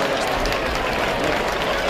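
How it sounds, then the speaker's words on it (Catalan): Crowd applause for the giants and their bearers at a town festival opening in Santa Coloma, a steady dense wash of clapping with murmuring voices mixed in, continuous and fairly loud throughout. "Un fort aplaudiment per ells."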